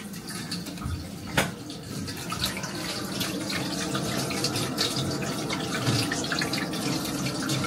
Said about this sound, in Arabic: كاين شي بلاصه كيضيع فيها الماء ما عرفتش منين